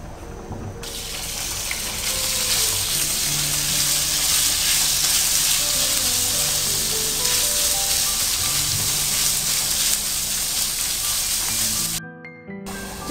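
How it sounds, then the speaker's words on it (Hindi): Chicken hits hot oil in a kitchen pan and fries with a loud, steady hissing sizzle that holds for about eleven seconds, then cuts off abruptly, with no talk over it. "और चिकन डाल दें।"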